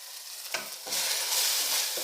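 Onion with ginger garlic paste sizzles in a pan as a spoon stirs it through. A couple of scrapes are followed by a steady, bright frying hiss that swells and holds, close up with no voices.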